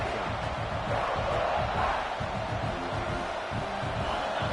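Dense roar of a football stadium crowd cheering at a South Carolina game, a steady loud wall of massed voices with shouts rising and falling, no pauses, filling the whole stretch.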